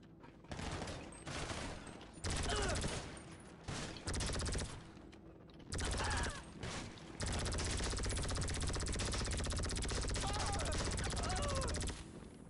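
Bursts of rapid automatic gunfire in GTA V Online, dense loud volleys that start and stop in several long stretches, with voices talking over parts of the shooting.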